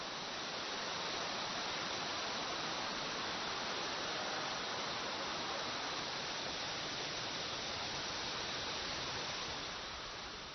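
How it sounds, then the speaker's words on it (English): The widest waterfall in China, in Jiuzhaigou, roars as a dense, steady rush of falling water, loud and unbroken throughout with no other sounds. "as the widest waterfall in China, it certainly deserves that description"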